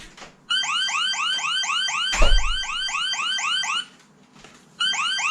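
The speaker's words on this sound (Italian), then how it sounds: "vedete che è partito l'allarme ma non si ferma anche sul chiusura porta fin quando non premo un interruttore" A smart-home alarm set off by a scene on a Sonoff TX Ultimate smart touch switch sounds loud and close as a rapid repeating electronic warble of chirping sweeps, cutting out briefly with a thump partway through and then starting again.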